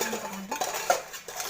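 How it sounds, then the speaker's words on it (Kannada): A spoon stirring flattened rice (poha) mixed with curd in a bowl, giving soft scraping and a few light clinks against the dish, close and alone without talk. "ಫಸ್ಟ್ ಇವಾಗ ಸ್ಪೂನ್ ತೊಗೊಂಡು ಕಲಿಸ್ತೀವಿ"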